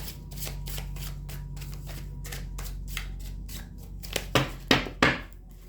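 Tarot cards shuffled in a continuous run of rapid, crisp riffling flutters over a low steady hum, closing with several louder slaps as the deck is squared up.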